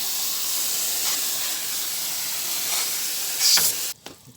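A water jet sprays steadily onto a car's AC condenser coil, a loud continuous hiss that surges briefly near the end before cutting off abruptly, leaving faint drips and clatter.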